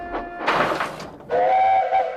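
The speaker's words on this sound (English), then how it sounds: "they used a different whistle sound" A steam locomotive whistle from Thomas & Friends blows in two parts: a short rushing burst of steam, then a sustained, steady tonal whistle of about a second, loud and close, with no talk over it.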